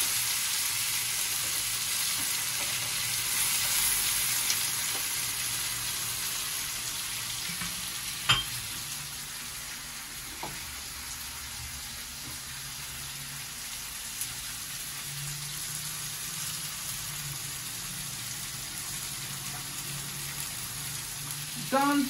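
Tomatoes hiss and sizzle steadily in a hot pan while cooking a creamy beef curry, with a few faint clinks and scrapes now and then and no voices.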